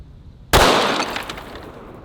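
A concealed carry handgun fires one loud, sudden shot at a small target from a low position, the sharp crack decaying into a lingering ringing tail.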